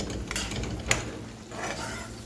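Food sautéing in a pan of coconut milk while cooking lobster and fish, a soft sizzle beneath sharp clinks and scrapes of a utensil against the pan, close and intermittent.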